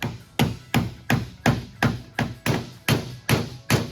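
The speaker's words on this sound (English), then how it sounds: "We'll try to hammer it apart." A hammer pounds a stuck 1928–29 Ford Model A metal subrail in a steady, even rhythm, about eleven loud, ringing blows close by with no pauses.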